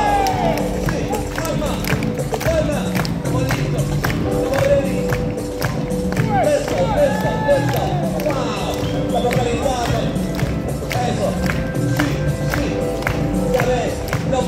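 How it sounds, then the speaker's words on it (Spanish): A crowd on a Barcelona street claps and cheers for an acrobatics show, the applause steady and close, with sharp individual claps and an announcer's voice breaking in now and then. "fuerte el aplauso para esa prueba"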